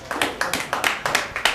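Audience at a Friday night comedy showcase clapping in a brief burst of applause, a steady run of sharp hand claps at moderate level.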